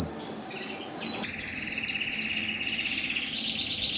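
Birds in a breeder's indoor bird room with long flight cages chirp and tweet close by: sharp repeated calls open, then a sustained warbling song runs on with more chirps layered over it.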